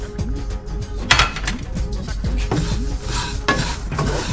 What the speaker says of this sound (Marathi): एकदम कमी गॅसवर आहे ना हे तीळ भाजून घ्यायचे आपल्याला